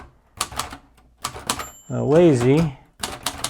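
An antique Royal manual typewriter clacks in quick bursts of sharp keystrokes, close and loud, while a person talks between and over the typing.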